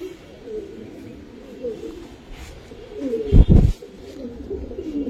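Army Federal pigeons coo softly and repeatedly at close range, with a brief loud thump of movement or wing noise midway through.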